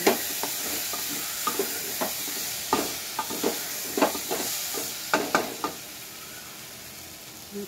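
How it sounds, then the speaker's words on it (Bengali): Dal (lentils) is stirred in a sizzling pan for a sambar breakfast, with a soft continuous fry hiss and repeated scraping strokes of a spoon against the metal, close by. "ডালটা দিয়ে একটু নাড়াচাড়া করলাম।"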